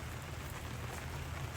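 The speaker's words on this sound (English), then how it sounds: "it is pouring rain, guys" Heavy rain pours down steadily during an outdoor beehive inspection, a dense, even hiss of drops drumming on surfaces with a low rumble underneath and no voices.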